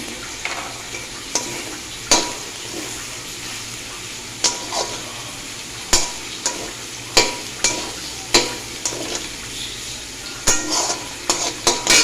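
Cabbage curry with fried spices is stirred in a pan, a soft sizzle running throughout while a spoon scrapes and clinks against the metal in about a dozen sharp, irregular strokes.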